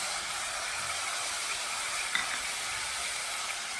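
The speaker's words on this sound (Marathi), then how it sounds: "कांदा टाकलाय, थोडं परतून घ्यायचं" Onion sautéing in a pan for a bread sandwich, a steady close sizzle with faint stirring scrapes, no voices.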